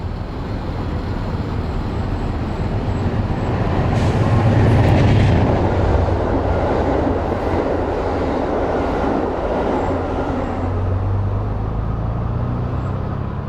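The northbound City of New Orleans passenger train, led by a P42 locomotive, rumbles past nearby through a cut in town, its loud roar swelling and fading with faint clickety-clack of wheels over the rails.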